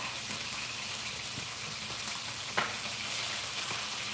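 Steady crackling sizzle of a turkey deep frying in hot oil, continuous and close, with a few small pops and bubbling bursts.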